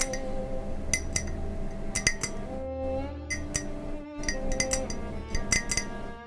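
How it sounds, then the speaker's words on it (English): A dark blue ceramic teacup clinks in close, bright repeated taps and rings, some notes left to sustain, heard alone in a quiet room. "I hear a nice glass sound. Here you go, it's my teacup."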